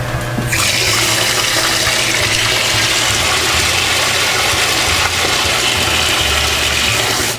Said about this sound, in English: Now I'm going to turn on the valve that's going to flush out the filter.